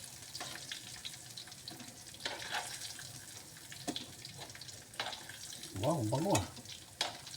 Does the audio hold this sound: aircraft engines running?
no